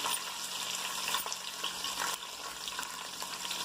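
Crushed garlic, curry leaves and chopped green chillies frying in hot oil make a loud, continuous close sizzle with slight crackling fluctuations throughout.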